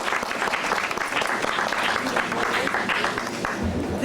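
A crowd at a 1997 youth camp event at NCCU gives the young people a sustained round of applause. The dense, even clapping fills the room from start to finish.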